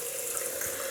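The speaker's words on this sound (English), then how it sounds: "so I'm just going to put some water in there" Water pours into a shaving bowl in a brief, steady hissing trickle, close and clear, with no talking over it.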